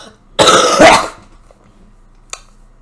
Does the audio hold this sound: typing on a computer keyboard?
no